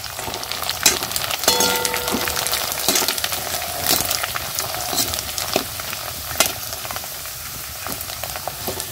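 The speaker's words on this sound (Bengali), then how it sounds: "এদিকে কড়া বসালাম, একটু পাঁপড় ভাজবো দেখি" Papad crackling and sizzling in hot oil in a kadai, a steady close bubbling hiss with scattered sharp pops throughout, no talking.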